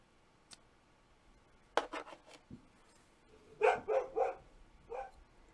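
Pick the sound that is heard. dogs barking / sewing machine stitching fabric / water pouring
dogs barking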